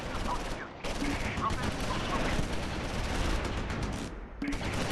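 Gunfire from the World War II strategy game Close Combat IV rattles in a steady dense stream of shots over a constant noisy backdrop, fairly loud and continuous.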